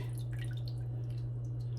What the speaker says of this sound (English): we're going to take up our fish and we're going to drain some of the water